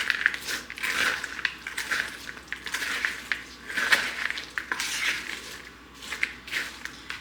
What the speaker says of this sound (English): you're just gonna mix that all around till they're evenly coated